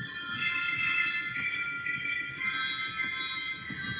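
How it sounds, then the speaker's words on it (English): Tuned sleigh bells on a Wurlitzer theatre pipe organ give a steady bright jingling shimmer that runs without a break for a few seconds, with no voices. "tuned sleigh bells,"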